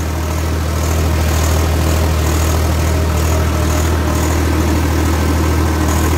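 A Swaraj 855 FE three-speed tractor pulling a 13-tine plough in second gear, its diesel engine running in a steady, loud, close drone with a deep low rumble throughout and no talk.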